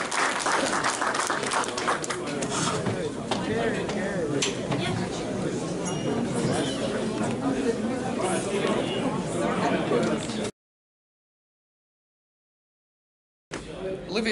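A room of people at a Melbourne Cup event gives a round of applause amid chatter and clinking glasses and cutlery, a continuous dense wash that cuts to silence, then resumes briefly.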